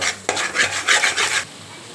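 Rapid scraping and rasping strokes, a utensil mixing broken eggs in a pan for egg kothu parotta, in quick uneven bursts close by.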